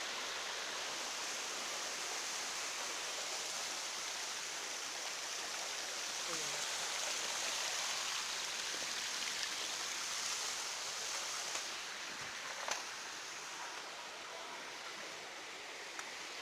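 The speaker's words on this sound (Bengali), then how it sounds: "চারপাশে ঝর্ণার পানি বইতেছে।" Waterfall water rushes steadily through deep jungle hills at Khoiyachora in Mirsarai, a dense broadband roar that holds constant and fairly loud throughout, with a few faint knocks near the end.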